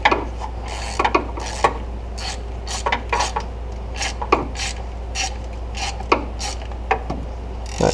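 Socket on an extension turned by hand to thread in a starter bolt on a 2000 Ford Mustang 3.8L, giving intermittent metallic clicks, ticks and light scraping close by over a steady low hum.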